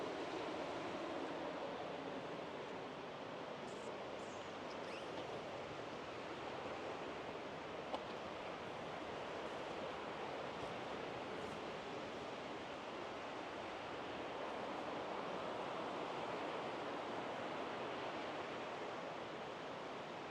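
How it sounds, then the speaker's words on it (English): The Hood River rushes steadily, a constant broadband roar of flowing water with no breaks, heard at moderate distance from a campsite. "this is the Hood River"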